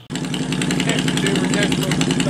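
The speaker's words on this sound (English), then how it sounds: "We got the Honda fired up, letting it warm up a little bit." A Honda Shadow Ace 750 lowrider motorcycle idles outdoors while warming up, its engine giving a steady, close, throbbing rumble from start to finish.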